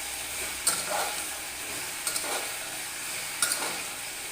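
Tomato frying with papaya and potato in a pan, a steady sizzle with three light utensil taps spread out, close and moderately loud.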